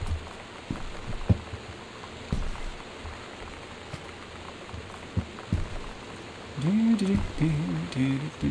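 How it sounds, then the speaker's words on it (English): Rain falls outdoors on a rainy day in Oregon as a steady, soft hiss with scattered louder drops and knocks. A voice briefly hums or speaks faintly near the end. "It's also raining out here in Meat Space."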